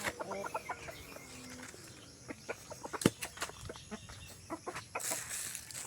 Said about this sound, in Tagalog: Kain na po yung manok ni Chris na mga kababayan.